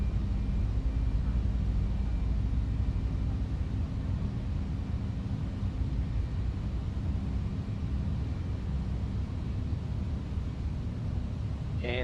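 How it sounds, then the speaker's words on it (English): An aircraft's engine 2 spins up during an engine-failure simulator training session, a steady broadband whine and rumble holding at an even level throughout, without talk. "So let's try to start engine 2"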